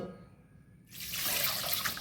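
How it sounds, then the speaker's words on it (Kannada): Moong dal is washed in water, with a quiet start giving way to a steady splashing, running-water rush for the remaining second or so. "ಅರ್ಧ ಬೌಲ್ನಷ್ಟು ಈ ಒಂದು ಹೆಸರು ಬೇಳೆಯನ್ನು ಚೆನ್ನಾಗಿ ತೊಳೆದುಕೊಳ್ಳೋಣ"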